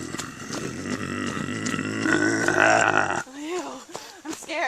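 A voice imitates a bear growl with a low, rough, gravelly rumble lasting a few seconds, close and fairly loud, then breaks off into more ordinary talk.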